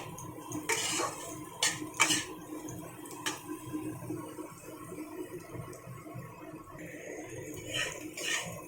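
Mixed rice being stirred and fried in a pan, with scattered scraping and clinking strikes from a utensil against the pan over a low steady cooking hiss, louder bursts near the start and end.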